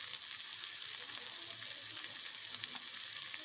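Soya chunks and mixed vegetables fry in a pan, a steady, fairly quiet hiss and crackle of sizzling oil throughout with no voices.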